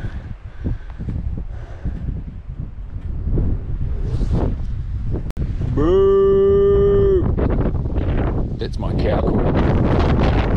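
A single low moo from Angus beef cattle rises out of steady wind noise outdoors in wet, cold weather, with a voice talking before and after it.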